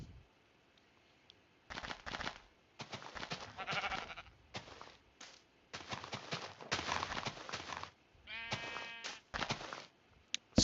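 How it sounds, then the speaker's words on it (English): Sheep in the blocky video game Tigercraft bleat repeatedly in short wavering bursts, close and fairly loud, one after another with brief gaps, alongside game footstep sounds. "Out of the way, sheep."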